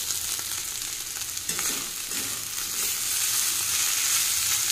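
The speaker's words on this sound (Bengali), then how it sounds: "এই যে বিট ভাজা হচ্ছে" Beetroot frying in a pan, with a steady, close sizzle and bursts of stirring, while the hiss grows slightly brighter and louder toward the end; no one speaks.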